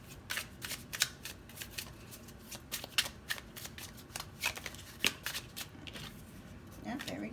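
Tarot cards are shuffled and drawn in quick crisp riffles and flicks, a dense irregular run of close, soft snaps and slides that fades toward a light rustle at the end.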